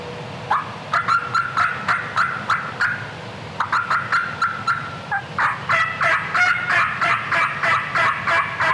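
Wild turkeys gobbling on a steep hill across a small creek, a long run of rapid rattling gobbles repeating rhythmically, moderately distant and loud with no talk over them.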